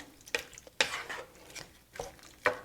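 Spoon stirring a lentil and artichoke stew in a pot, a few soft scraping and clinking strokes spaced irregularly, close and quiet.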